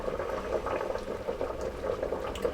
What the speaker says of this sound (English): This thing's boiling like crazy though.